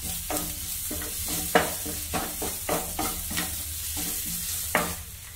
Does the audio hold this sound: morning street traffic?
no